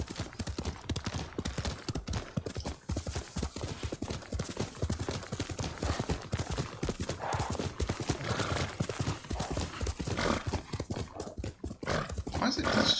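A horse galloping in the video game Ghost of Tsushima, with rapid, continuous hoofbeats close by and a whinny among them, under faint background sounds.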